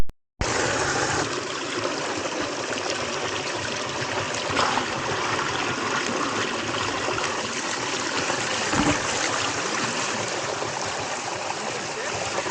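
Water rushing out of a pipe outdoors in a steady, loud, unbroken stream that starts abruptly after a brief pause and continues without letup.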